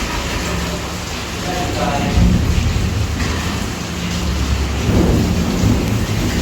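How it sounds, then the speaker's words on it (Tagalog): Heavy rain pours steadily in a dense hiss, with low rumbles of thunder rolling underneath, at a resort construction site. "Ayan, lakas ang ulan."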